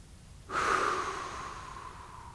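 A single long, soft breath taken during a vinyasa yoga practice, opening with a sharp intake and then fading slowly as an airy exhale, close and quiet with no talk over it.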